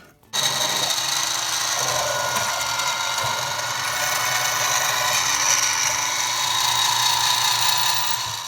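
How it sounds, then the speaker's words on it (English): Metal being drilled on a lathe with a size P drill bit, a steady grinding, whirring machine noise that runs loud and unbroken from start to finish after a brief quiet opening. "I'll drill down just past that depth"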